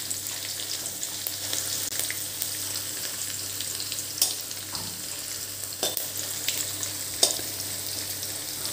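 Peanuts roast in a hot pan for papad pauva, giving a steady, close frying sizzle with small crackles and occasional stirring scrapes. No one speaks.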